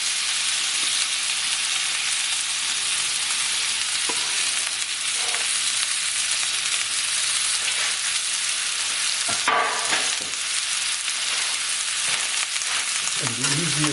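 Onions, mushrooms, pepper and garlic cook in a pan with a steady crackling sizzle, stirred now and then with brief scraping clatters.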